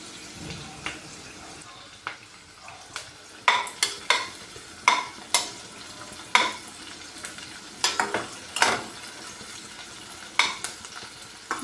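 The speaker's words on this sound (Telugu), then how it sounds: "బాగా బ్రౌన్ కలర్ రావాలి ఇవి ఉల్లిపాయ ముక్కలు" Small chopped onions fry in oil until brown, a quiet steady sizzle with frequent sharp scrapes and knocks of a utensil stirring the pan, close by.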